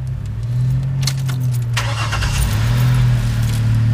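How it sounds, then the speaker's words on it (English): A parked car is started and run so it can be moved, a steady mid-low engine hum filling the clip with a brief jangle of keys near the start, close and fairly loud, with no talking. "We have to move the car."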